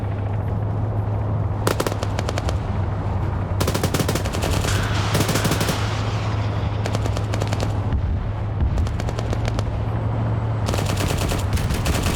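Rapid bursts of automatic turret gunfire in a video game, several sustained volleys separated by short pauses over a steady low background hum, loud and close.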